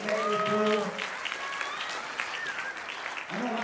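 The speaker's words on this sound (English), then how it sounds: "Round of applause." Applause from an audience at a spring dance recital rustles steadily under a voice, with a brief louder vocal moment at the start and end.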